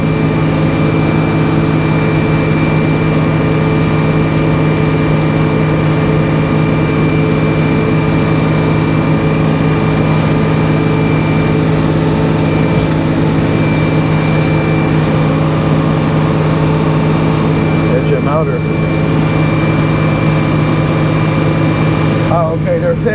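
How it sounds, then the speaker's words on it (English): Bus engine idling near a sawmill where 16-foot 2x4 boards are being cut, a loud steady low hum with constant tonal whine, continuous throughout while someone talks over it. "Hear the bus motor, Louie."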